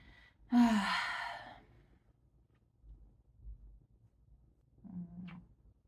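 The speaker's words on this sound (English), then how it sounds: "This is Momo, my 9-year-old cat" A nine-year-old domestic cat gives a drawn-out, breathy vocal close by, then a quieter short second sound after some soft rustling, in an otherwise quiet room.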